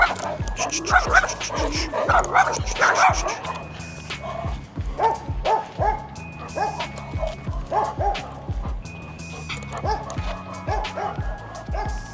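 Dogs bark and yip repeatedly, with some whimpering, over a noisy outdoor background and scattered other voices.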